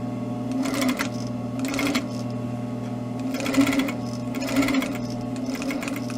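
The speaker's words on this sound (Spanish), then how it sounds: "Esto lo cosemos en máquina plana. Vamos a coser." A flatbed sewing machine stitches a tailored collar, its motor running in several bursts of rapid, steady needle chatter separated by short pauses, close and clear with a low hum underneath.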